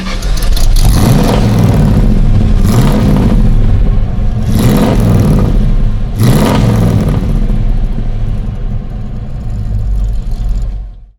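A 1974 Holden Kingswood HQ with a 5800 cc V8 engine running loud and close, its deep, rumbling idle broken by four or five sharp revs that swell and fall back, with no talk over it.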